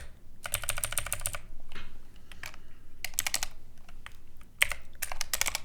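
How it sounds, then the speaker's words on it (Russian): Typing on a computer keyboard in short bursts of rapid clicky keystrokes with gaps between, close and clear, including a press of the Insert key. "я нажал Insert, обожаю эту кнопку"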